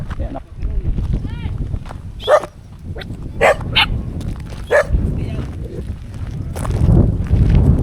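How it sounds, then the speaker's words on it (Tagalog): A dog barks a few sharp times near a hillside house in the Philippines, heard amid people talking and outdoor background noise. "Ay, may aso."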